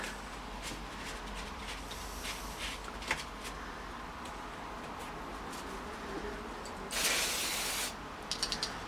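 Short hisses of carburetor cleaner aerosol spray on a strimmer amid mechanical clicking and rattling, with one longer loud spray burst near the end.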